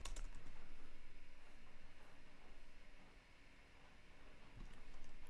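Typing on a computer keyboard while entering code, a steady run of soft key clicks over a constant background hiss, with no voices.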